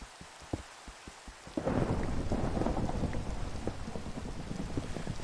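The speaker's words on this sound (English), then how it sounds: "You can thunder all you want there, Zeus." A Minecraft thunderstorm opens with a few scattered raindrop ticks, then a loud rolling crack of thunder gives way to heavy, steady rain that hisses on and on.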